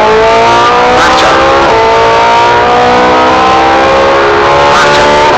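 A Ferrari 458 Italia's engine revs hard on the Vairano race track, its rising harmonic whine climbing and dropping with gear changes, loud and continuous throughout.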